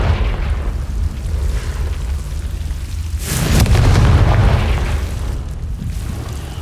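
A Confringo blasting spell explodes in the wizarding game Hogwarts Legacy, a deep booming burst with a rumbling low-end swell that lingers for a couple of seconds over steady ambient noise.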